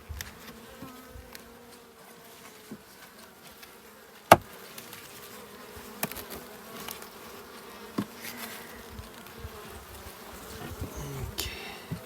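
A steady, low hum of a honeybee colony buzzing close by, with occasional handling clicks and knocks over the drone.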